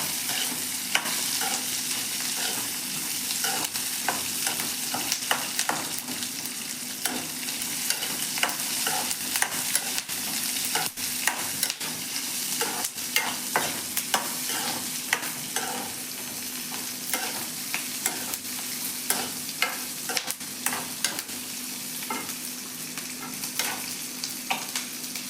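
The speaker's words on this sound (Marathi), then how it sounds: "असं मिक्स करून घ्यायचं आणि" Chopped onion and garlic sizzle and fry in a pan while a spoon stirs them, a steady crackling hiss broken by frequent scraping strokes, close and continuous, with no voices.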